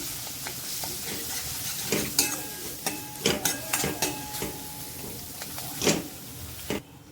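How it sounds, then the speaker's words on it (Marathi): Spices and an onion-coconut paste sauté in hot oil, with a soft continuous sizzle and irregular scraping strokes of a spatula against the pan, close and fairly loud. "हे सर्व मसाले तेलावर थोडे परतून घ्यायचे आहेत"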